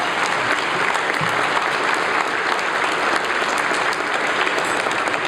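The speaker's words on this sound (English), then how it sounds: "can we give JJ and the crew here a round of applause for putting this together every year?" Audience at an Emmy awards ceremony clapping for the production crew, a loud, dense, continuous round of applause with no talk, sustained evenly throughout.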